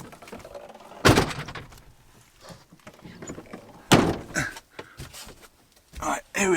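A van door thuds shut, with a second heavy slam a few seconds later, both close and loud amid rustling and some speech.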